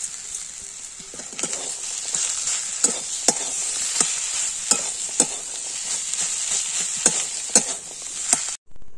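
A vegetable mixture with coriander leaves sizzles and fries steadily in a pan while a spoon scrapes and stirs it in regular strokes, close up and fairly loud, with no talking.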